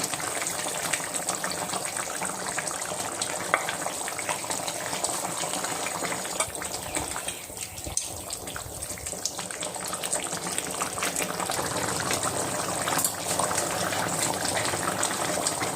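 A pot of Bengali tilapia fish curry gravy with cauliflower, potato and bori bubbles at a boil, a continuous close hissing and gurgling bubble that runs steadily without speech.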